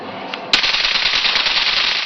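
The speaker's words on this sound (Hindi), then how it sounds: "रिमोट दबाइए और लीजिए धड़ाधड़ चलने लगे पटाखे" Remote-triggered electric firecrackers popping in a rapid, continuous crackling string after a sharp first bang, loud and close, with no voices.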